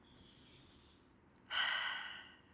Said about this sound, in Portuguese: A melhor que eu conheço é a respiração profunda.